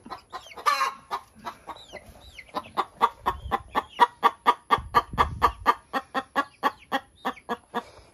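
A hen clucks near her eggs on a farm, a steady series of close, rhythmic clucks repeating about three times a second, with a few soft outbursts at the start and wind rumble underneath.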